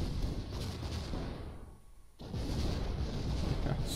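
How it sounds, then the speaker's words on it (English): Tank cannons firing in the artillery video game ShellShock Live, a dense run of booming shots and blasts with a short quiet gap in the middle before the barrage resumes, loud and close. "they're all shooting for me"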